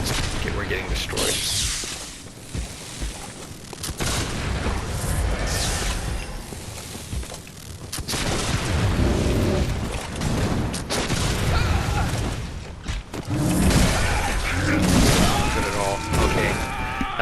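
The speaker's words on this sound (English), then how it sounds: "Oh, and the guy's shooting me as well." Enemy rifle fire in the Bloodborne video game, with bursts of shots, booms and clatter mixed into a dense, loud game soundscape throughout, under a player's talk.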